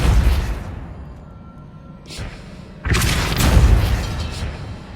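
A Depulso spell in Hogwarts Legacy goes off as a loud booming blast, first a heavy rumbling burst that fades, then a second powerful whooshing boom that swells and holds to the end.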